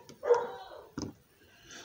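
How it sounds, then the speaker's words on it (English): A Shiba dog gives two short yappy barks close by, a longer one and then a quick second, followed by a faint whine. "Sorry about my dog."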